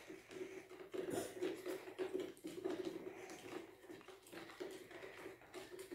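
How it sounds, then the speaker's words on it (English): A spoon stirs sand into a glass of water, giving faint, repeated clinks and gritty scraping against the glass in a quiet room. "Now, I am going to add some sand to it. I am stirring it well."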